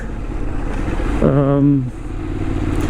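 A 2022 Benelli 752S motorcycle on the road gives a steady, loud engine drone buried in rushing wind, with a brief rising and falling tonal whine swelling midway before settling back into the constant roar.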